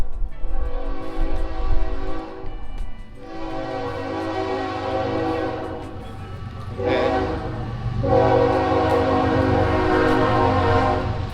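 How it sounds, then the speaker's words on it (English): A train passes at a car show in Norcross, Georgia, a loud sustained horn blaring in long blasts over the rumble of the rail cars, with faint voices underneath. "And then like clockwork, the train is coming again."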